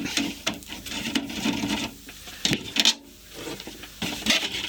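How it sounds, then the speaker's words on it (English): Unscrewing the antenna socket on a Philips TB810 mono portable CRT TV, a dusty unit with wood chips inside: close, uneven scraping and rasping of metal and plastic with brief clicks and pauses, no talk. "gotta unscrew the antenna socket by the look of it"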